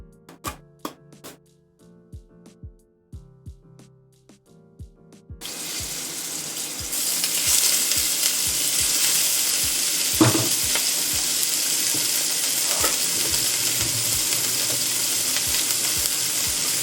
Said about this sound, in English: I'm going to add the rest of my ground pork mixture into the pan.